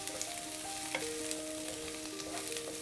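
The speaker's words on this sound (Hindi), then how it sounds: "हमें इन्हें 2 मिनट ही फ्राई करना है, जिससे सब्जियां हल्की सी सॉफ्ट हो जाएं।" Carrots, capsicum and onion fry steadily in hot oil, giving a soft, continuous sizzle with an occasional stir, fairly quiet and close with no talking.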